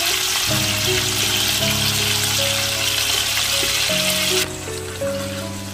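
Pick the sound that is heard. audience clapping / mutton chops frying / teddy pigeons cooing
mutton chops frying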